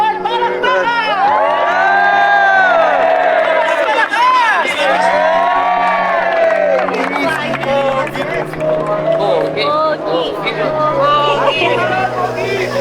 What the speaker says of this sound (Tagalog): Sigawan, parang baka!